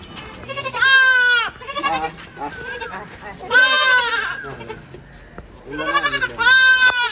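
Goats bleat loudly and close by, giving long, quavering calls in three strong bursts, with softer bleats in between.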